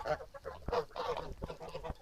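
Mammoth geese honk repeatedly in short, nasal bursts, several birds calling close by in an irregular, overlapping chorus.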